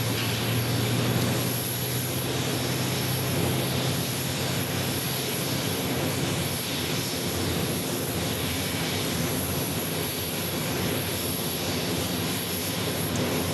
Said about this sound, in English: Porter. Flying in from Toronto on the E295.